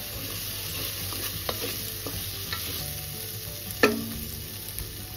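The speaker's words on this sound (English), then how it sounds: "Give it a stir." Potatoes dressed with lime juice are stirred in a frying pan, giving a soft scraping and sizzling under a steady frying hiss, with one sharper clink of the spoon near the end.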